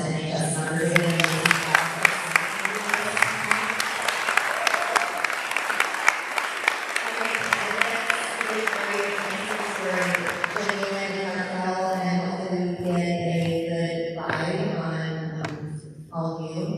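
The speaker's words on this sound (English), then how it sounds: "Let's give a round of applause to the NHS members." Audience applause for National Honor Society members at a school board candidate forum, a sustained round of clapping with faint crowd noise and voices mixed in, fading toward the end.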